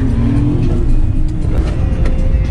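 A Suzuki Every VX van driving on a main road in Karachi, with a steady, fairly loud engine hum and road noise throughout, no voices.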